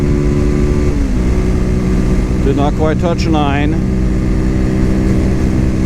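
A Cougar Vitacci XMT 250 motorcycle engine drones steadily in fourth gear on a test ride, loud and close with wind rush, while a rider talks briefly over it.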